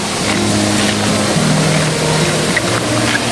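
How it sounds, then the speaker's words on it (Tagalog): Loud, roaring water noise near a waterfall, with waves rushing in a constant dense wash that fills the whole stretch without pause. "pasensya na at maingay yung alon"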